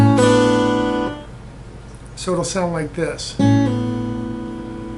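Two plucked guitar notes ring together and a quick pull-off follows. A person speaks briefly before the strings are plucked and ring out again.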